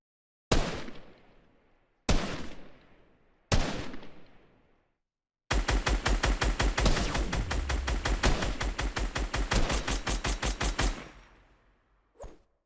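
Gunfire in the Fortnite video game: three sharp single shots spaced apart, then a long rapid burst of loud automatic fire lasting several seconds, ending with one brief faint shot.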